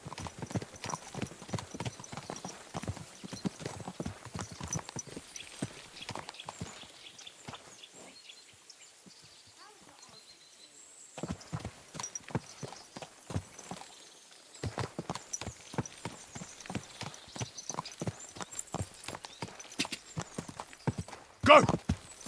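Horse hooves clip-clop steadily in the video game Kingdom Come Deliverance 2, a continuous run of distinct hoofbeats over some twenty seconds, easing off briefly midway, with someone talking over them at times.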